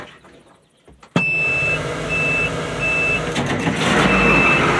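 A quiet pause gives way to a loud White 4-175 tractor engine rumble, with a high electronic PTO pressure alarm beeping in steady, evenly spaced tones over it.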